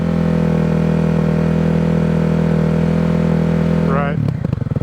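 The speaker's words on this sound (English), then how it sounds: "When it's idling, it definitely sounds deeper. Maybe a tad bit louder, but I don't think it's obnoxious." A Kawasaki KLX 300 dirt bike fitted with an FMF Q4 exhaust idles steadily with a deep, even thrum, loud and close, then a brief blip of the throttle near the end.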